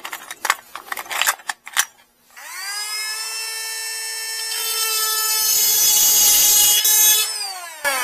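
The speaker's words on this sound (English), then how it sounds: "I'm gonna have to pull this out and Dremel it all." Dremel rotary tool spinning up to a high, steady whine and grinding on a mini-truck part after a few clacking handling noises, loud and close, then winding down.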